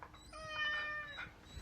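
A single drawn-out cat meow, clear and fairly close, with a rising and falling tone over quiet background.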